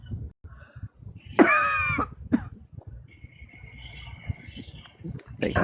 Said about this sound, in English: keep coughing so I know you're breathing